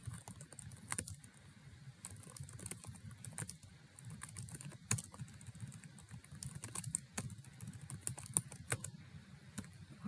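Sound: typing on a computer keyboard

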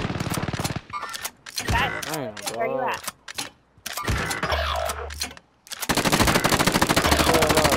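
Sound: gunfire in video game Call of Duty: Modern Warfare

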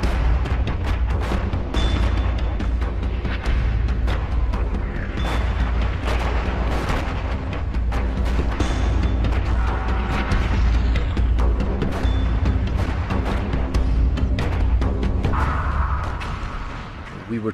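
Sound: artillery shells exploding on the WWI Western Front battlefield

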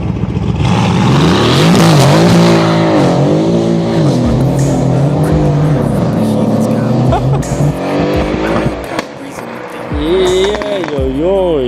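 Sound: tuned 660 hp Mercedes-AMG car with removed catalysts drifting

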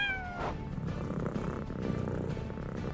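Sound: cat meowing

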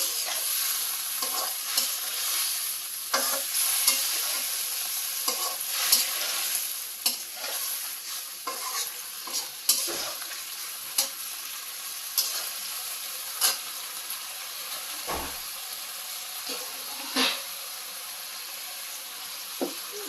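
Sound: sautéing boiled potatoes in a pan

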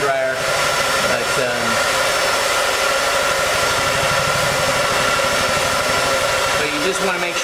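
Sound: hair dryer warming adhesive tape

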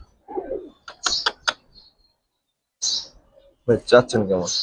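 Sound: Giribaz pigeons cooing at a pigeon farm

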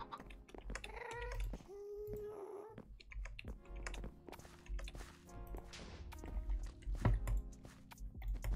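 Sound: cat meowing

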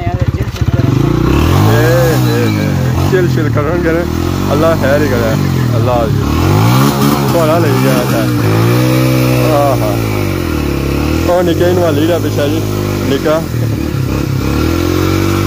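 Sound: motorcycle

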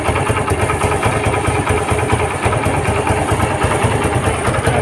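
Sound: Suzuki Gixxer Monotone 2021 motorcycle engine idling

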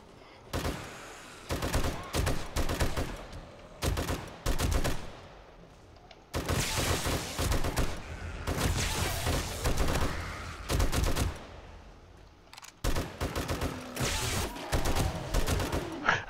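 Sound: turrets firing in video game 7 Days to Die

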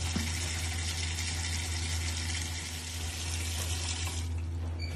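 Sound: hot water running from tap into pot

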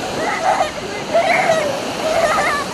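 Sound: splashing water as a girl swims in the cold sea

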